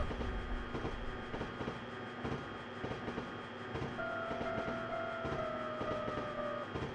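An old-fashioned train horn in the Densha de Go 3 railway game sounds as a steady, sustained tone over the rolling clatter of the train, rising clearly above the running noise.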